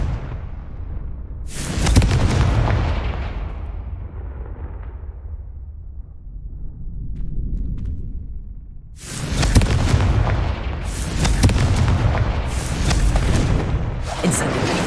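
Confringo spell blasts in Hogwarts Legacy go off as loud, booming explosions: one early burst that decays into a rumble, then a rapid cluster of further blasts later on, with a faint voice around them.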